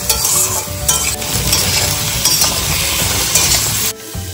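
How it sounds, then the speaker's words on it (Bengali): Beans being stir-fried in a little mustard oil with salt and turmeric, loud and close, with a constant sizzle under busy scraping and clinking of a spatula against the pan, ending in a brief pause, no speech. "একদম অল্প একটু সর্ষের তেলে জাস্ট একটু নুন হলুদ দিয়ে নাড়িয়ে"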